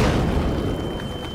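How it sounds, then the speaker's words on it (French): Artillery shell exploding as a stage sound effect in a theatre show: a loud, sustained low rumbling blast filling the whole clip with no voices. "Et soudain, l'obus a éclaté."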